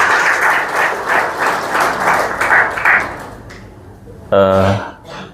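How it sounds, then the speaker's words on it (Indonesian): An audience in a church service in Bethlehem breaks into loud, sustained applause for about three seconds, then the clapping fades and a short ringing tone follows. "Tepuk tangan bagi Tuhan Yesus Kristus."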